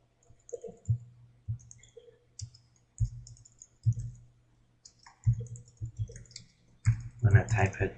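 Short bursts of keyboard typing clicks recur through the stretch while someone works in Photoshop, separated by pauses, with a person talking intermittently over them.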